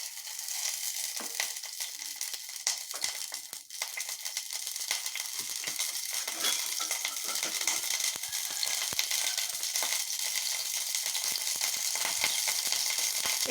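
A pan of oil heats on a stove over a medium flame, giving a steady, close hiss and sizzle with small crackles throughout and no talking.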